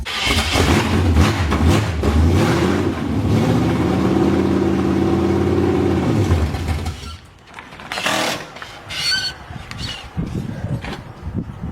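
An engine in a home-assembled project car runs and revs with a sustained mid-pitched drone for about seven seconds, then cuts to rougher, intermittent engine noise with short bursts.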